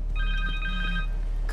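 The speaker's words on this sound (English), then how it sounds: "Connor's cell phone." A cell phone rings in a Spider-Man 2 video game cutscene: a steady electronic ringtone with stacked tonal bands, repeating in a short pattern over a low continuous hum, then cutting off.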